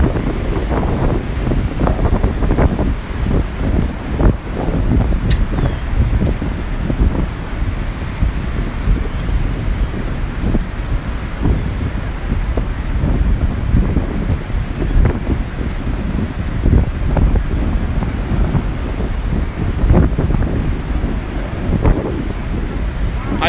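Strong wind at Niagara Falls, Ontario, roaring and buffeting the microphone loudly and without a break, with a low rumbling wash throughout and someone talking underneath.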